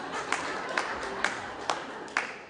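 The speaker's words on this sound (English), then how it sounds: "Yeah, you clap." A few scattered claps from a comedy show audience, faint and sparse, with sharp isolated hand strikes spaced roughly every half second over a low room murmur.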